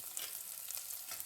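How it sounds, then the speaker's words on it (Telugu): Onions frying in a couple of spoons of hot oil, a bright steady sizzle, close and continuous for a brief moment. "అయితే 2 స్పూన్లు వేసాను ఆయిల్ వేడయ్యాక ఆనియన్స్ వేసుకోవాలండి"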